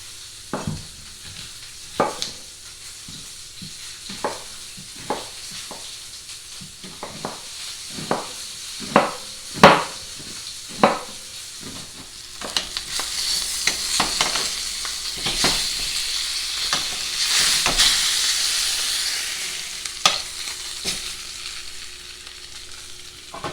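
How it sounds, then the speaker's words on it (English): Lamb shanks sear in oil in a hot pan, giving a steady close sizzle broken by frequent sharp pops and crackles. The spitting grows louder and denser toward the end. "We're going to sear both sides, about 2 minutes on each side."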